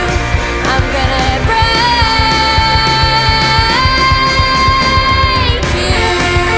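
A rock song plays loud and dense, with driving drums, distorted guitars and sustained vocal lines running through the whole stretch.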